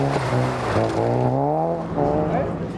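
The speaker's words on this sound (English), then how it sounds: "Derek Forsyth was at the wheel of his brand new Proton Persona" A Proton Persona rally car at the Snowman Rally, its engine revving up and down in rising and falling sweeps, loud and close with a commentator's voice over it.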